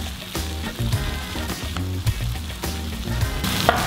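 Mashed mixed vegetables for bubble and squeak sizzle and crackle in a medium-hot pan, a steady frying hiss with occasional stirring clatter close by.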